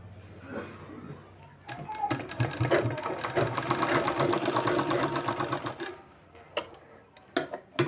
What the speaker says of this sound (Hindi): यहाँ इस तरह से अटैच करके हमको सिलाई लगा लेना है